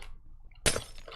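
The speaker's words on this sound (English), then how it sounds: "I know I'm breaking glass, by the way." A glass block shattering in Minecraft: a quiet lead-in, then one sudden, bright, crisp break with a short tinkling tail.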